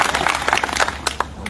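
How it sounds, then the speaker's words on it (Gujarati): An audience at a farmers' rally applauds. Brief, fairly close hand-clapping rises and thins out over a moment, with a couple of distinct claps near the end. "તમારા પોતાના માટે તાળીઓનો આવકાર થઈ જાય"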